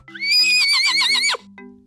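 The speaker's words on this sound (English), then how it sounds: "Horse." A horse gives one loud, close whinny with a trembling, warbling pitch, then falls silent apart from a faint low hum.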